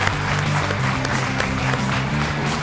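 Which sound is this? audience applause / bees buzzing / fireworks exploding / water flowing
audience applause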